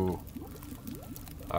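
Rose hip tea being made in the survival game The Long Dark, a soft gurgling pour with rising bubbly glides, fairly quiet, bracketed by someone talking at the start and end.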